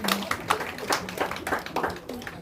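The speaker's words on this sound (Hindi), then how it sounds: "ताली बजा जोर से" Scattered hand clapping from guests at an engagement ceremony, a few irregular claps near by with voices and crowd noise mixed in throughout.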